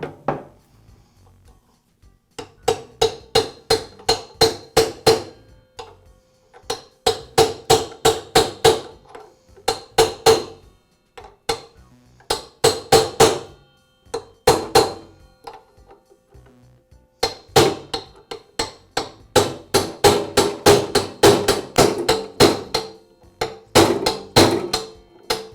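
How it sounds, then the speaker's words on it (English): A socket used as a driver taps a new ball bearing into the housing of a DeWALT chop saw, giving long runs of sharp, rapid metallic knocks close by, in bursts separated by short pauses, with no talk. "I'll use a socket that has a diameter about the same as the outer race to tap it into place"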